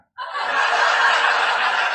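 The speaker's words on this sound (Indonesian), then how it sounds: "tertawa," A TikTok Live laughter sound effect starts abruptly after a brief silence, then holds as a loud, steady burst of group chuckling and snickering.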